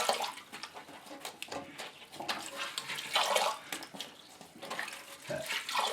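A sponge soaks up and squeezes water from a leaking toilet tank, producing close, faint splashing, trickling and dripping in uneven bursts.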